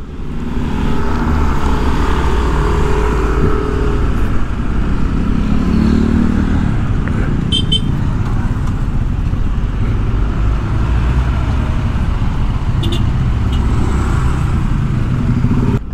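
A Yamaha Aerox 155 motor scooter hums loudly and steadily while riding through traffic, with constant road and wind roar and occasional clatter, no voices.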